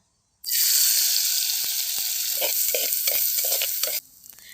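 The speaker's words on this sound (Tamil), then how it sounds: "இதே நெய்யில் நான் ஒரு கப் தினையை கழுவிட்டு எடுத்து வச்சுருக்கோங்க அதை சேர்த்து வறுத்து எடுத்துக்கலாங்க" Washed foxtail millet hits hot ghee with a sudden loud sizzle that holds steady, while a spoon stirs in soft rhythmic scrapes, then the hiss cuts off abruptly near the end.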